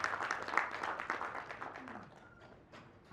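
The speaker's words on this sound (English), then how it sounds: "Applause once again for Rajesh sir." Audience at a conclave at IIT gives a short round of applause after a speech, fairly faint clapping that fades out, with a voice speaking over it.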